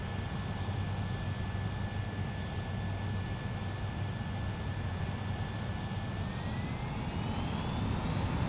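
Jet aircraft taking off in the Ace Combat 7 video game, a steady, loud engine roar with a rising whine toward the end, continuous with no talk.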